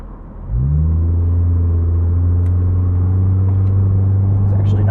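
A 2008 Mitsubishi Eclipse Spyder convertible with a 4-speed automatic rounds a corner, its engine climbing quickly to a steady, loud drone heard from the cabin.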